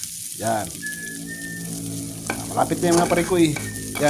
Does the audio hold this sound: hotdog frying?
yes